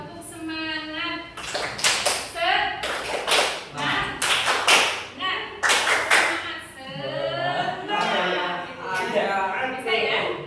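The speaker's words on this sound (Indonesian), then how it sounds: "kita tepuk semangat. Tepuk semangat." Indonesian group performing a rhythmic spirit clap, crisp sharp claps in short patterned bursts interleaved with a woman's spoken instructions and counting, moderately near.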